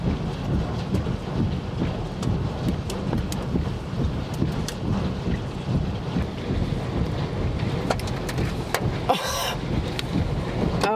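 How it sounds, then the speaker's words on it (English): Hail pelting a small car during a supercell thunderstorm near Owasso, Oklahoma, a steady dense roar of impacts and rain on the body with wind buffeting the microphone throughout, loud and continuous, with no talk. "Is the hail getting bigger?"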